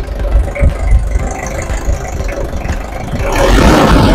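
A Mazda Bongo double-cab 4WD with an R2 2.2-litre diesel engine runs at idle, close and loud, with a rough, steady low rumble. The rumble swells briefly toward the end.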